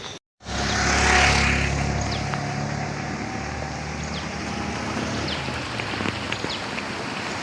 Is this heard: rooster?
no